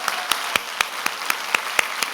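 Audience in a Korean church college-group worship service clapping in a slow, even rhythm, about one sharp clap every quarter second, steady and moderately loud with no talk over it.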